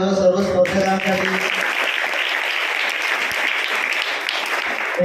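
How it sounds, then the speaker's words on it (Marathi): At a high school elocution competition, a hall audience breaks into loud, sustained clapping that starts right after a brief spoken announcement and carries on steadily to the end. "एकदा जोरदार टाळ्या वाजवा सर्व स्पर्धकांसाठी"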